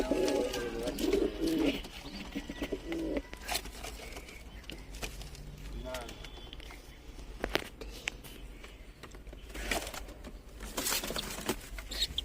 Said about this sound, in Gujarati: પછી આપણે લઈને આવી ગયા કબૂતર.